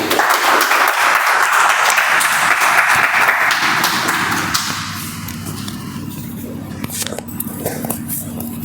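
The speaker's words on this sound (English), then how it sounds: "please give a huge round of applause for Toastmaster Nibby." Applause from a Toastmasters club meeting audience, a dense wash of clapping that fills the first half and then fades into quieter room noise with scattered claps.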